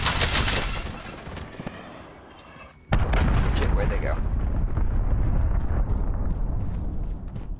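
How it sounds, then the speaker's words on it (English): Grenade blasts in the shooter game Modern Warfare: loud, dense rumbling explosions with crackling debris, a sharp louder burst near the middle, then sustained booming chaos under a voice. "Grenades, grenades everywhere."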